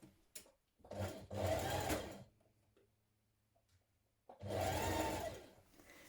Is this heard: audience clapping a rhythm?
no